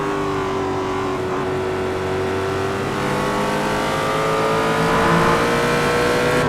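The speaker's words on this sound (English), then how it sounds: "look at the power of this Ford GT3 as he comes on the outside of the Mercedes" A Ford GT3 race car in iRacing at Mid Ohio, its engine revving up hard and steadily along the main straight, loud and close with rising pitch and no talk over it.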